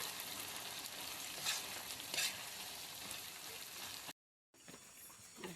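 Eggs with tomatoes fry in a pan, a steady crackling sizzle with stirring, broken by a brief silent gap before the sizzling resumes.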